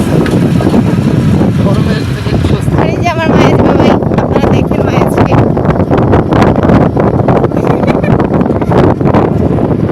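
Night wind buffets the microphone from a moving van, a loud, steady roar with rumbling road noise beneath, while someone talks over it throughout.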